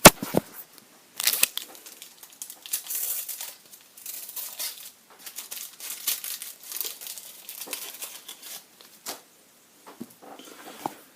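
A packet of French firecrackers being opened, close crinkling and tearing of wrapping in irregular bursts with brief pauses, no speech.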